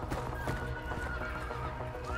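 Horse in the video game Hunt: Showdown, a short neigh with clopping hooves, fairly close and moderately loud in a brief burst.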